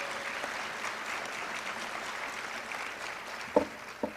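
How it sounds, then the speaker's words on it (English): Audience applause at a Head Start Association conference, a steady broadband patter of many hands filling a large hall, fairly soft and distant, with a couple of sharper knocks near the end. "round of applause?"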